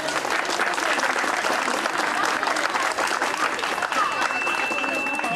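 Sustained, dense applause from an audience at an engagement ceremony, steady and fairly loud throughout, with faint voices mixed into the crowd noise.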